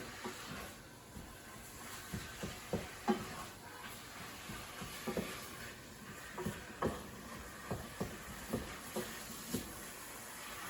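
Ground meat fries in a pan for lettuce wraps, a steady close sizzle broken by regular scraping clacks of a utensil stirring and turning the meat.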